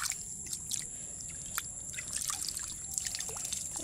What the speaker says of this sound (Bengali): দেখতে পাচ্ছ কি সুন্দর জল যাচ্ছে